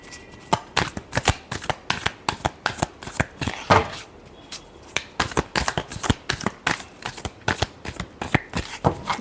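Tarot cards shuffled by hand in quick, crisp bursts of riffling and flicking, repeated in a steady rhythm close up with no talk over it.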